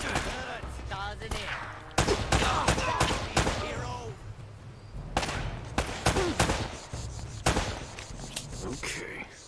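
Gunfire in the video game Uncharted: Drake's Fortune, a loud running exchange of sharp shots and bursts at close range, with someone talking over parts of it.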